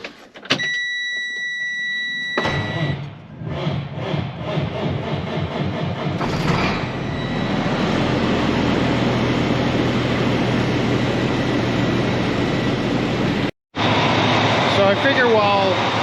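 A truck engine cranks and catches, then settles into a steady, loud idle that runs on for many seconds, with a brief cut near the end.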